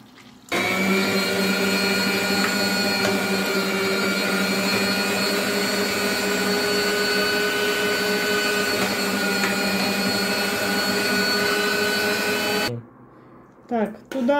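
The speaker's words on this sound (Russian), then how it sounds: "И тоже через мясорубку." An electric meat grinder mincing meat for homemade cutlets runs with a steady, loud motor whine and grinding hum for about twelve seconds, then cuts off, followed by a few faint clatters.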